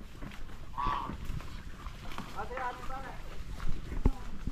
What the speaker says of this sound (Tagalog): Daming pabo, bibi oh.